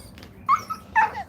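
A dog close by lets out two short, high whimpering yips about half a second apart, each rising then falling in pitch, over a low steady background hum with no talking.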